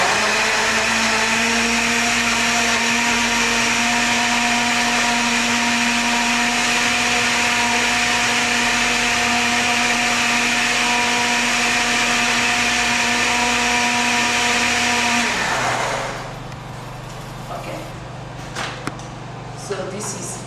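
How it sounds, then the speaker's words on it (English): Kitchen blender whirring through garden egg sauce ingredients for a rich sauce with mushroom, a loud steady motor whine with a tonal hum that cuts off near the end, leaving quiet handling clatter. "I'm going to be adding this now inside the blender to blend them."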